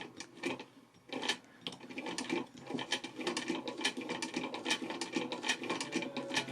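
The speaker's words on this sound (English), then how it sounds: "Look it, I got it to work. It's pretty fun. It's not fast though." A black Le Couturier hand-crank sewing machine runs slowly, its needle mechanism making a fast, steady series of close mechanical clicks and ratcheting taps at a fairly quiet level.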